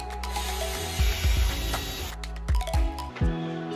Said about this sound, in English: We're gonna drill our first hole.